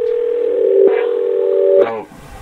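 A steady telephone tone hums loudly for about two seconds, then cuts off abruptly, leaving a faint hiss of line noise.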